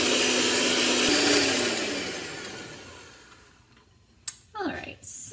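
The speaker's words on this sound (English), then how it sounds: "beat the eggs at medium speed until they're fluffy and light yellow" An electric mixer with a whisk attachment beats eggs at medium speed for brownies, a steady loud whirring that fades out over several seconds before a few clattering knocks at the end.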